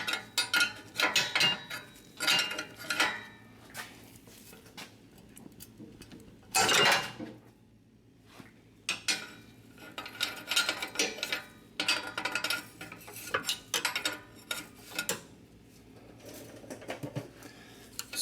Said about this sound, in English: I'm gonna grab a wrench so we can undo this sensor.